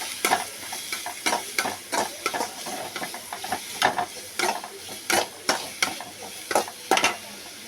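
Chopped ridge gourd sizzles in a hot pan while a spatula scrapes and stirs in steady, repeated strokes.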